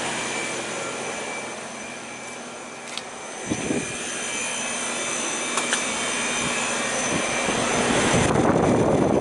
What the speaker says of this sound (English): And the compressor seems to be running.